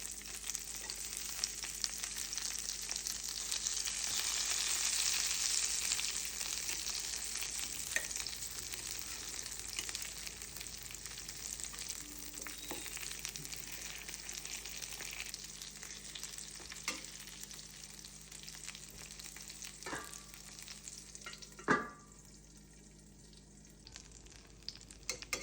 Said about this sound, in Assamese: ইপিনে বেঙেনা ভাজি হৈয়ে যাব।